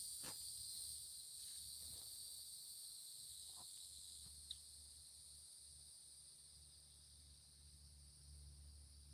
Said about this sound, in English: Yeah, cicada. That's it.